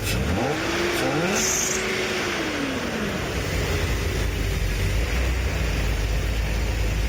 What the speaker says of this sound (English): Here's the throttle response right now.